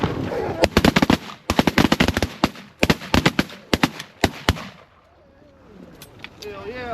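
Several hunters fire a rapid shotgun volley at ducks: dense clusters of loud, close blasts over about four seconds, then quiet with voices afterward.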